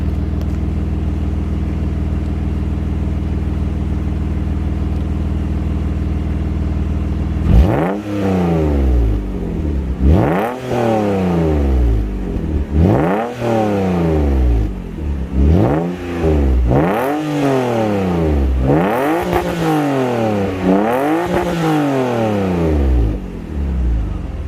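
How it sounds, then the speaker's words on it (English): A BMW E36 track car with a catless straight-piped race exhaust idles steadily at first, then revs repeatedly in loud, rising and falling blips close by as it warms up. "I'll get back to you guys in a few minutes when the car is warmed up"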